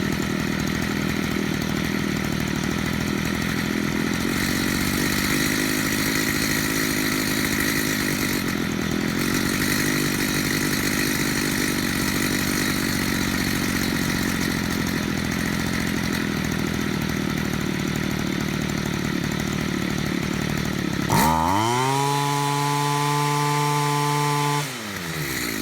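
A weedeater string trimmer engine runs steadily and loudly throughout during carburetor tuning, then abruptly revs down near the end with falling harmonic tones as it settles toward idle.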